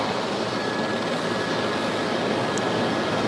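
A JetBlue airliner with landing gear locked sideways rolls down the runway on landing, its jet engines giving a loud, steady broadband roar with no break, no voices over it.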